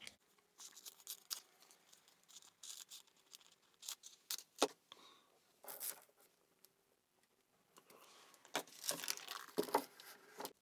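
Scissors snip through a small piece of fabric in short, quiet bursts of crisp cutting and rustling, separated by brief pauses, close up with no talking.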